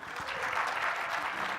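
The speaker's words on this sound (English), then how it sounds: "Give him a round of applause" A seminar audience at a cocktail industry event gives a steady round of applause for a bartender, a dense, even wash of clapping heard at a moderate distance.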